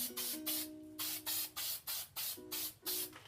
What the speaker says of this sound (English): then I'm gonna start spraying the branches with our glue